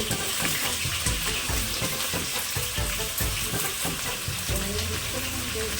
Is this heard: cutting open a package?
no